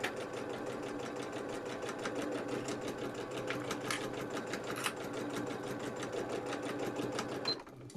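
A sewing machine stitches a zip into a hexie puff bag, a steady rapid mechanical whirr with fast regular needle clatter, close and continuous before slowing to a stop near the end.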